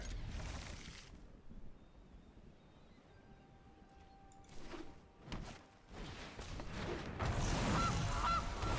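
A goose honks when the Gilded Goose card is played in MTG Arena, a few short nasal honks, moderately loud, amid game sound effects.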